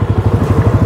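A 2024 Kawasaki Mule Pro MX utility vehicle drives over technical wooded terrain, its engine giving a steady, close, rhythmic low chugging throughout the short stretch, with no talking.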